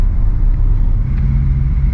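Car driving in slow-moving highway traffic near Idaho, heard from inside as a steady low engine and road rumble with continuous tire noise and no voices.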